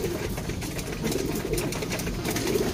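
Soft, low pigeon cooing murmurs steadily over a rushing background hiss, like rain, with no voices present.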